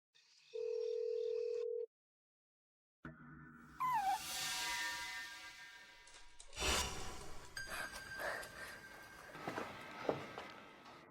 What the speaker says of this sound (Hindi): यह मेरी फोन वॉच है।